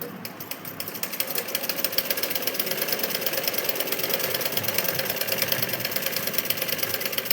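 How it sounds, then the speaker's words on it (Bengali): A sewing machine top-stitches salwar fabric, running in a steady, fast mechanical chatter that continues unbroken, close and clear with no voices. "বটার উপরে চাপ সেলাই হচ্ছে"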